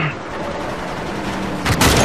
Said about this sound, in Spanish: ¡La escopeta!